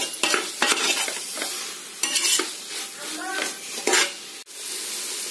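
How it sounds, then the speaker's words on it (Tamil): Tomatoes sauté in a pan for a chicken biryani, with a steady sizzle under repeated scraping stirs of a spoon against the metal and light clinks of utensils, close and fairly loud, with no talk. "தக்காளி நல்லா வதங்கட்டும்."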